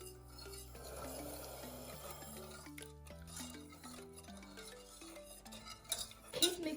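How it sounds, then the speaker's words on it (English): A spoon stirring prunes and sugar in a pot for vegan kiiseli dessert, soft scraping and clinks against the pot, quiet and close beneath melodic background music, growing busier toward the end. "After stirring for about 2 minutes, add in 150 grams of sugar and keep mixing"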